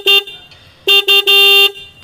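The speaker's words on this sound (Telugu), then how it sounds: "హార్న్ యొక్క లౌడ్నెస్ అనేది ఒకసారి చెక్ చేద్దాం." Horn of a 2024 Bajaj Pulsar RS200 motorcycle sounding in four loud, close honks: a short toot, a pause, two quick bursts, then one long blast.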